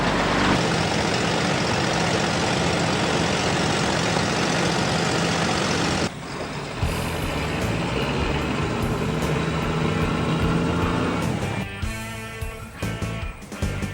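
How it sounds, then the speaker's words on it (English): A 4x4 MAN truck engine runs at idle, a loud steady rumble that changes character partway through and grows uneven near the end. "Andrew's 4x4 Maxter is typical of the type of vehicle that has been put into harness for this type of work"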